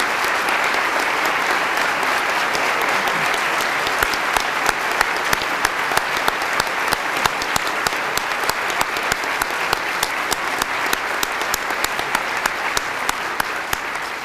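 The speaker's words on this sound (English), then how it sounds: "I think you can see with the applause how much everybody here today enjoyed your presentation" Sustained audience applause fills a lecture hall after a talk, dense clapping from a large crowd holding steady for the whole stretch with no voices over it.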